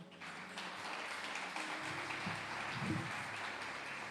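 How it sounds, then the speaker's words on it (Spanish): A church congregation applauds steadily during a service, the dense, even clapping filling the whole stretch with a brief swell near the end. "denle un aplauso al Señor"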